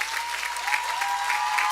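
Audience applauding at a Hollins University commencement ceremony in 2023, a steady dense patter of many hands clapping with no break, close and full.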